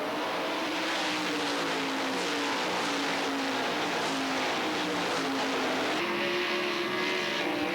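Super Sportsman race cars roaring around a short oval track in 1990s central Pennsylvania racing, a loud continuous engine drone with rising and falling pitch as cars pass, steady and close throughout.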